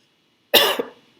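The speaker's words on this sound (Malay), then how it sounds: "Okey, ada batuk sikit." A single sharp cough from someone during a talk or lecture, a short burst with a brief second catch, followed by quiet.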